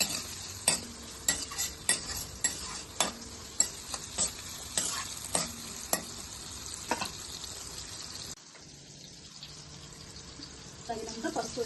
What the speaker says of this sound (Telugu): ఇప్పుడు తాలింపు వేస్తున్నా